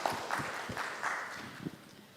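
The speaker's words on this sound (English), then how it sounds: "A big round of applause for Patricia." Applause from a conference audience in a small auditorium: a soft, fairly distant wash of clapping that carries steadily for about two seconds, with faint stray noises underneath.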